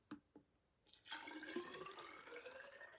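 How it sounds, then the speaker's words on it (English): Water poured from one container into another during a buoyancy experiment: two small drips, then a steady, close splashing pour that continues to the end, with no talk. "Now I can pour it into a different container and it takes the shape of that container."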